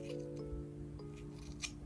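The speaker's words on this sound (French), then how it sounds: "Fais ça avec des ciseaux de coiffeur" Quiet snipping of hairdressing scissors cutting hair, a few short metallic snips over a steady low hum, close by.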